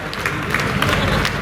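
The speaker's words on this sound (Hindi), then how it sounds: "जो दाहिने साइड में ताली बजा करके स्वागत करिए" A crowd at a political rally in Gorakhpur applauds loudly, a dense wash of clapping filling the whole moment with a faint voice underneath.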